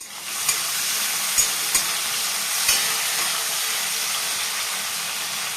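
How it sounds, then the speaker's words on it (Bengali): Fish frying in hot oil in a home kitchen hisses and sizzles steadily and loudly, with a few sharp pops and stirring bumps breaking through. "এই যে মাছের তেল হচ্ছে প্রায় হয়ে এসছে"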